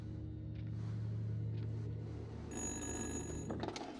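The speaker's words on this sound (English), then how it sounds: "Answer the phone." A telephone rings in the horror video game Little Hope, a faint electronic trill that starts about halfway through over a low hum, with no voices.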